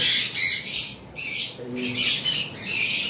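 Pet cockatiels and sun conures kept for sale squawk loudly and repeatedly in close, harsh bursts that overlap almost without pause.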